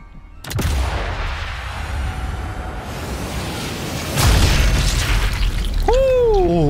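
Gunfire and an explosion in the video game Sniper Elite 5: a sharp shot opens, followed by a loud rumbling blast and a heavier boom later, ending with a whooshing, wavering effect sound.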